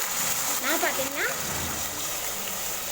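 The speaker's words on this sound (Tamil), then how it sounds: "இப்போ இது கூட பார்த்திங்கன்னா தண்ணி சேர்த்துக்கலாம்" Water is poured into a pan of sautéed ginger garlic paste for a Tamil Sunday lunch rice dish. A short splashing gush lands in the hot pan, with a voice talking over it.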